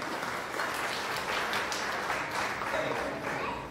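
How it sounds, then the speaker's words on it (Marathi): An audience claps through a realty firm's tenth anniversary celebration event, a dense, steady wash of applause that lasts the whole stretch at a moderate, slightly distant level. "थँक्यू हरिदास सर आणि त्यांची वाईफसाठी जोरदार टाळ्या होत्या"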